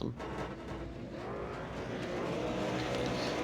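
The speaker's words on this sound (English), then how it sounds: "So the revs are rising here at Imola." V8 Supercar engines in the iRacing sim on the Imola starting grid, a steady dense roar of many revving engines building slightly in loudness, with faint commentary underneath.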